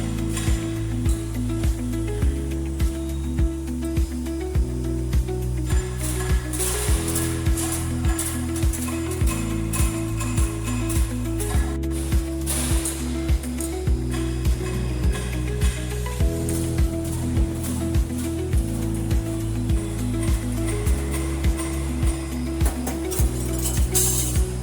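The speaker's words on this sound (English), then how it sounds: "This station accurately punches all necessary mounting connection holes and strategic end notches" A supermarket shelving panel roll forming machine punches mounting holes and end notches in steel panels, giving a loud, steady mechanical clatter with rhythmic repeated clanks over a constant low drone.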